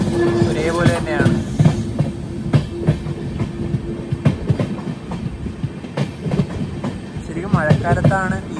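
Ernakulam–Velankanni weekly express with a WP4 locomotive, running steadily: a constant rail rumble and clickety-clack heard from onboard, with people talking over it at the start and end.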